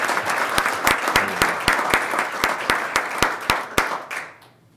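Audience applause fills a city commission meeting, dense clapping with sharp individual claps standing out, steady and fairly loud before tapering off and fading near the end.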